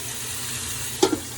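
Pizza with vegetables frying in a pan, a steady soft sizzle running throughout, with a brief clatter near the end.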